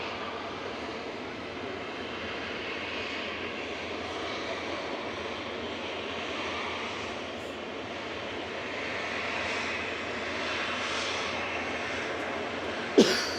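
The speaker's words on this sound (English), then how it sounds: "This is Fearless Lady, GVEVE for Virgin Atlantic. A350 1000." A Virgin Atlantic Airbus A350-1000 departing Manchester Airport, giving a sustained jet engine roar at moderate distance that slowly builds, ending with a brief sharp cough-like noise nearby.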